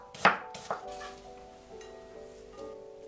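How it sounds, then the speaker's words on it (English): A knife cuts through half an onion on a board, with a few crisp chopping strokes near the start, then a faint ringing tone that lingers. "Slice a half onion"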